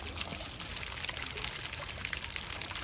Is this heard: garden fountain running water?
yes